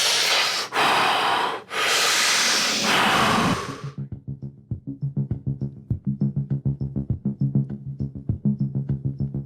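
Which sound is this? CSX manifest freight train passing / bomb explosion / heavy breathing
heavy breathing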